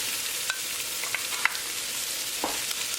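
Onion sizzling steadily in a hot kadai for ground beef, a dense continuous fry with a few soft scrapes and taps of stirring, close and fairly loud.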